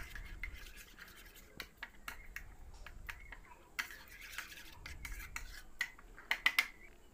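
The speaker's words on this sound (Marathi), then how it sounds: "आता आपल्याला दूध आणि ही चपाती व्यवस्थित मिक्स करून घ्यायची आहे" A spoon stirs and mashes chapati into warm milk for baby food, giving soft, close, continuous rubbing and scraping with scattered small clinks against the bowl, quiet and without talk.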